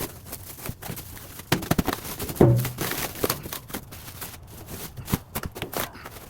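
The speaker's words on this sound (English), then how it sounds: "part of the fun with this is unwrapping it, right?" A Chassis Unlimited truck bumper for a 5th Gen Ram is unwrapped, with faint scattered crinkles, rustles and tearing of packaging in irregular bursts, close by and without talk.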